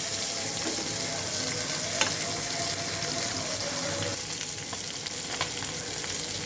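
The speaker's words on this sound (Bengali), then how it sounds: "উল্টায় দিই এটা ফ্রাই হয়ে আসছে মাংসটা" Meat fries in an uncovered pan for a home-cooked lunch, giving a steady, close sizzle with a few faint clinks and scrapes and no voices.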